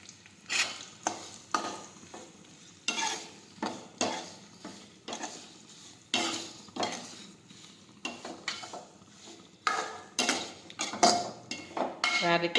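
Turmeric and cumin stirred in a pan for a ridge gourd curry, with a metal spoon scraping and clinking in repeated bursts over a faint background, close by.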